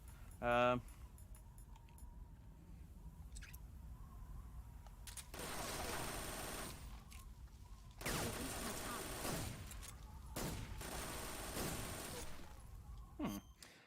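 Gunfire in the Metal Gear Solid 3 video game comes in several sustained automatic bursts of moderate loudness, separated by quieter gaps with a short vocal sound near the start.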